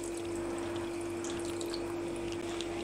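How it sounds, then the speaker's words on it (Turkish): Water poured from a glass into a pot over stuffed dried dolma with meat, a steady close pouring and trickling sound running continuously without talk. "Hemen 3. su bardağı suyu da üzerine ilave ediyorum bu şekilde."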